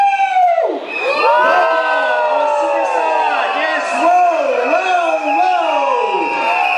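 A theater audience cheers and whoops loudly as a curtain is about to open, a dense sustained roar of many voices with shouts and rising calls layered throughout.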